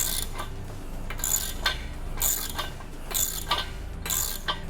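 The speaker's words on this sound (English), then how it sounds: "we're gonna go through and tighten those to get the bottom frame solid" A hand ratchet clicks in short repeated bursts while tightening nuts on the bottom frame of a half rack, close and crisp with brief pauses between strokes.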